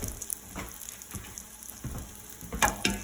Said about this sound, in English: So we're just going to lightly brown these for a minute on both sides.